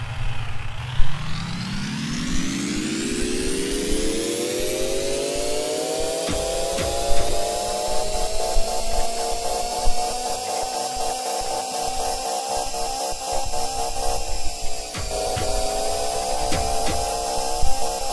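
Two engine models, a radial and a linear inline-four piston engine, throttle up together: a whirring tone climbs steadily in pitch over the first seconds, then holds a loud, continuous buzzing drone with small wavers and ticks.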